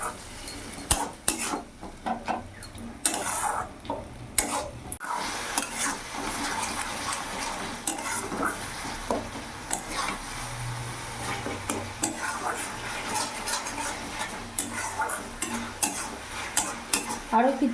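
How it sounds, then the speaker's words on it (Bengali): Spice masala with red chilli powder sizzles in oil in a pan as it is stirred and fried down for a rohu fish curry; a close, steady sizzle with repeated scraping and clinking of a spatula, and no talking. "ভালো করে মশলাগুলো একসাথে সব কিছু মিশিয়ে আমি কষিয়ে নেব।"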